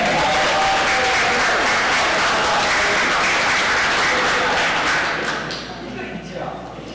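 Applause at a council meeting, a loud, dense crowd clapping that carries for about five seconds, then dies away into a quieter room with a few scattered claps.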